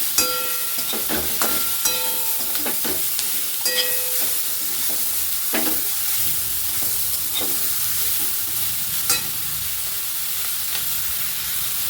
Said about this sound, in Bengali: ক্যাপসিকামটা আমি গাজরের সাথে একসাথে নেড়ে